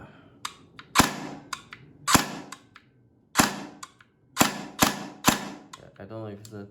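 A Systema Infinity airsoft gun pre-cocks and fires on semi-auto, giving sharp, close, loud mechanical snaps spaced irregularly about half a second to a second apart, with a brief springy rattle at the end.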